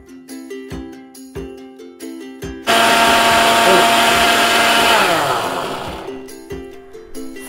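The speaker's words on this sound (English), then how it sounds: "I have my blender here and I'm going to add in all my strawberries in." A kitchen blender roars to life as it purees strawberries, whirring loudly and steadily for several seconds before winding down, with rhythmic music before and after.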